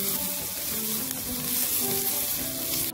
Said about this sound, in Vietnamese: chúng ta sẽ cho phần tỏi băm và phần tím băm vào để thử